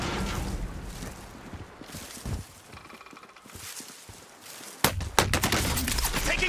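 Gunfire in Call of Duty Warzone on a Pacific map: quiet game ambience gives way near the end to loud, rapid bursts of automatic shots cracking close by, several volleys in quick succession.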